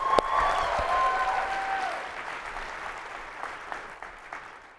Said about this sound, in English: One more clap for my fellow presenters.